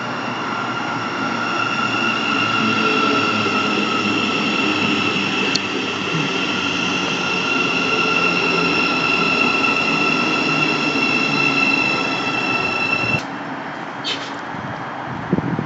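A Class 700 electric train, unit 700036, pulls into Mill Hill Broadway station on the Midland Main Line, a steady loud hum of traction motors and rail noise with high whining tones, then easing at the end.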